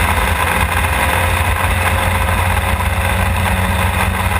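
A Formula Ford racing car engine drones steadily at Thruxton circuit, a constant mid-pitched hum with no breaks or pauses across the whole stretch.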